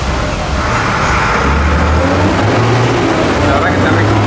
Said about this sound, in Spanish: acá pasan muchos carros